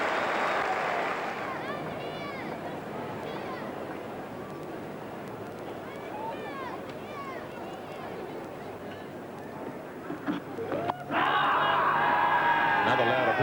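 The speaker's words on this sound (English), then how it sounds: "But the crowd very excited" A cricket crowd at a 1992 World Cup match in New Zealand roars and cheers in a sustained, distant wash of noise that swells sharply louder near the end, with a commentator's voice above it.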